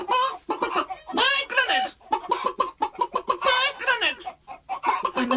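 Hens clucking inside a hen house in the animated series The World of Peter Rabbit and Friends, a busy run of overlapping clucks and squawks that carries on steadily throughout at close range.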